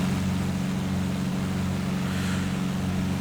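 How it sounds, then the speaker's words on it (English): Steady, loud drone of a Bonanza F33A propeller engine at cruise power in X-Plane 10, a constant low hum with a throbbing propeller buzz and no talking. "I'm going to bring the engine sound down a little bit so that we can hear ATC better."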